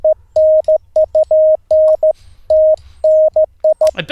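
Morse code keyed by a ham radio operator: a steady tone sounding in quick dots and longer dashes with irregular spacing, loud and clear over a faint low hum, a brief burst of noise at the end.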